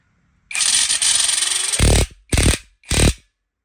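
A Wadfow 20V lithium-ion cordless impact wrench tightens a bolt, giving a loud sustained rattling hammer burst followed by two shorter punchy bursts, with no talking.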